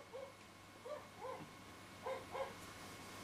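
An upset dog gives short, high yips and whimpers in a quiet indoor room, about five brief cries spaced out in pairs, faint and close with no talking.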